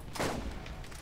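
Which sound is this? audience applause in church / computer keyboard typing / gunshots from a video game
gunshots from a video game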